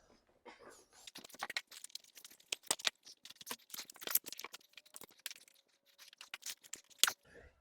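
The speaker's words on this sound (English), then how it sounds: "We'll get the box and the paper removed" Cardboard box and paper being pulled off and torn away while unboxing a TIFGALOP T88 Plus electric scooter: a busy run of close crinkling, ripping and scraping clatter, no talking.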